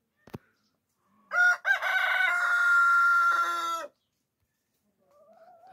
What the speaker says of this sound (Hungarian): Most a másik kukorékolt